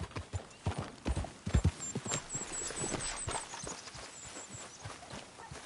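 Horse hooves clip-clop in a quick walking rhythm in Red Dead Redemption 2, with a brief whinny and faint high tones in the background.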